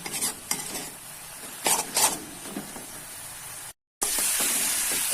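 Chicken pastry filling is stirred in a frying pan over low heat, a spatula scraping in several brisk strokes over a soft, steady sizzle, close and alone without speech.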